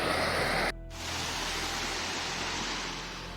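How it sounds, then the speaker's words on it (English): Sandy River water rushing steadily near Mount Hood, a broad continuous roar close by, briefly cut off and then resuming at a similar level. "this is the Sandy River, which we just crossed"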